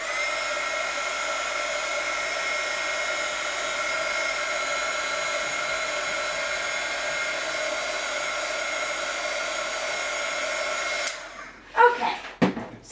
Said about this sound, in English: I'm going to let that dry by using my heat gun here very quickly and just zapping it